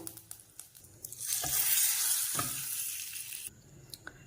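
Tomato garlic chutney poured into a hot tempering pan sets off a loud, hissing sizzle that swells for about two seconds, then cuts off, with light clinks before and after.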